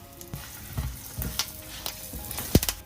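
Spices fried in a pan of oil for tamarind rice, with dried red chillies, curry leaves, turmeric and a ground masala mix, sizzling softly with scattered stirring scrapes and one sharper clack of a spoon near the end.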